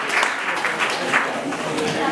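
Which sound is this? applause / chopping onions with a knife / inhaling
applause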